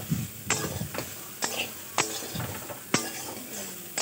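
Soya chunks fry in a pan with a soft, steady sizzle as a spatula stirs them, giving sharp scraping clicks roughly every half second; the sound is close and there is no talking.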